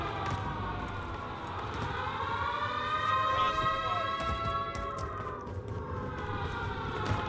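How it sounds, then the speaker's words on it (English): A wailing siren in the Call of Duty game on Rebirth Island rises and falls steadily over continuous game noise and faint background sounds. "Damn, but that siren, though."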